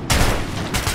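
Gunfire bursts out in the shooter game Metro 2033, a loud rapid fusillade that starts abruptly, thins briefly, then swells again within a second, heard alone without speech.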